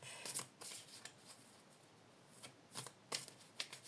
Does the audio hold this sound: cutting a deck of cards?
yes